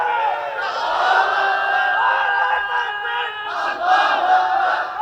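A crowd at an Islamic religious sermon shouts the takbir, Allahu Akbar, in loud unison, a close sustained chorus of many voices that swells again near the end.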